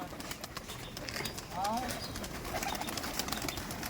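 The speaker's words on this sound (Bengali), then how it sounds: "দেখুন পায়রা সব নামছে" Giribaz pigeons coo softly as the flock lands from high wires at a loft, amid a busy outdoor background, with a brief burst of bird calls near the middle and some nearby human noise.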